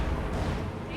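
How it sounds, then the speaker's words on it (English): A single anti-tank gun shot in a WWII strategy game, a sharp boom rolling out over a dense, low battle rumble that fills the whole second. "AT gun shot from across the river takes out the Sherman"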